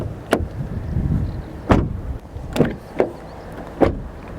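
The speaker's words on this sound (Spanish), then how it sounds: "es una puerta robusta, es una puerta que si cierras fuerte notas esa robustez de Volkswagen" Several doors on a Volkswagen ID.3 are shut one after another, giving about five sharp, solid thuds spaced unevenly over a few seconds, with faint handling noise between them.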